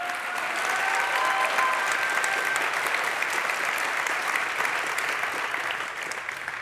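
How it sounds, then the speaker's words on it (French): An audience at an award ceremony applauding a winner, a steady, full wash of clapping from a large crowd in a hall, sustained evenly throughout. "Geoffrey Willems, on peut l'applaudir s'il vous plaît."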